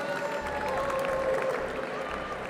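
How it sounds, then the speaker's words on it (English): Audience applause breaks out for a barista's milk course at the US Barista Championship in Denver, a steady patter of clapping heard from a distance, fairly soft and even across the moment. "Let's give a big round of applause for Maja's milk course."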